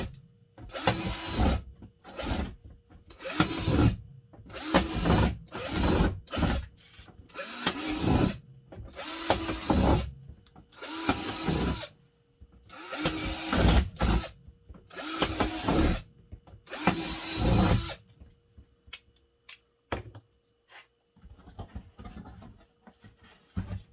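A power drill bores air holes through a plastic worm bin lid, a run of short, loud whirring bursts with brief pauses between them, then the tool falls quiet.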